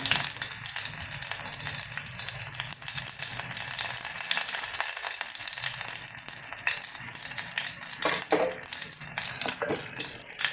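Curry leaves frying in oil in a pan for a banana stem pickle, a steady close sizzle with light crackle and occasional rattles of stirring throughout.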